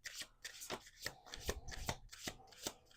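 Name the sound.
playing cards being shuffled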